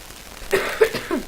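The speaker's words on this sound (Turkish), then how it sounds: "öksürük sesim gelirse kusura bakmayın" A man coughs during a PES 2013 football game session: three short, close coughs in quick succession with quiet pauses between them and no speech.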